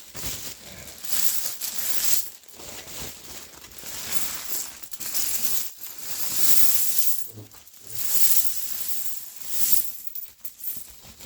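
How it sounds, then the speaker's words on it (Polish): Silver coins poured out, a bright metallic jingling and clinking that comes in several rolling bursts with short pauses between them, close and fairly loud. "monety wysypane"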